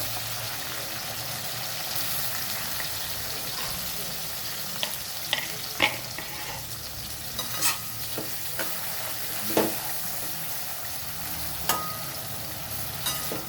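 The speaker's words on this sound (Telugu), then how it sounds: "ఈ ఆరబెట్టుకున్న వాటిని అయితే కొంచెం కొంచెంగా వేసుకోవాలి ఒక్క సగం వేసుకొని" Dried bitter gourd slices frying in hot oil in a pan, a steady broad sizzle with scattered sharp crackles and pops and occasional scrapes of stirring, with no voices.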